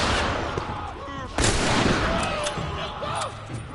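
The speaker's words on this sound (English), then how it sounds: "What are you shooting at?" Gunfire in The Last of Us, several shots and bursts popping over a busy game soundscape, with one sharper loud report partway through and scattered fainter shots around it.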